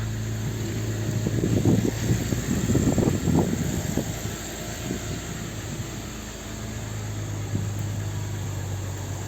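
A BMW engine idling steadily after a long-crank starting fault was fixed, a low continuous hum with a rougher, louder burst early on that settles back to an even drone, no talk.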